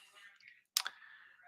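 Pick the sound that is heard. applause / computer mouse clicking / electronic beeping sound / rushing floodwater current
computer mouse clicking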